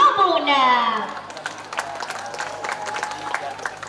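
Audience applause for the fourteen finalists of the Bujang Gadis pageant at SMA Negeri 6 Palembang, a scattered crowd patter with some cheering that follows amplified talk and carries on at moderate volume.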